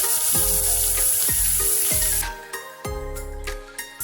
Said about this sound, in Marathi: कांदा तेल टाकले एक पळीभर. आता कांदा फोडणीला मस्त.